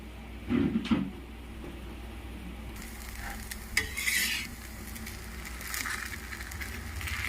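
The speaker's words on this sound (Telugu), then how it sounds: "ఆయిల్ స్ప్రెడ్ చేసుకొని కాల్చుకుందాం" Vada pappu dosa batter with carrots, green chillies and curry leaves fries in oil on a pan, soft sizzling with scraping and stirring clatter and a few louder utensil knocks, close and steady with no talking.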